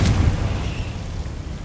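Confringo blasting spell in Hogwarts Legacy, a sharp booming explosion at the start with a low rumbling tail that slowly fades out.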